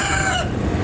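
A rooster crows loudly and close, a single short burst of cock-a-doodle-doo with chickens clucking around it.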